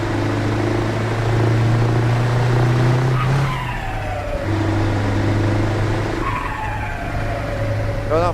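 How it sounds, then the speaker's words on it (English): Scania V8 truck with open-pipe exhaust in the Euro Truck Simulator 2 game: a loud, steady low engine drone with rising and falling gear-change pitch sweeps and some skidding-like squeals, close and continuous. "It's called the V8 Open Pipe Leipzig sound from Slab Jerry."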